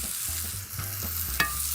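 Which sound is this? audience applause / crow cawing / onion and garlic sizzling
onion and garlic sizzling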